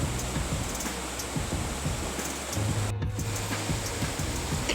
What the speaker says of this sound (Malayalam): വെള്ളം ശബ്ദമൊക്കെ നല്ല രസമാണ്